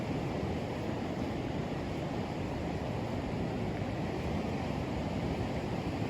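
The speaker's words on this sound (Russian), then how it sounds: "шум моря" Sea waves on a calm, windless day on the Latvian coast give a steady, soft wash of surf, continuous and fairly faint with no speech.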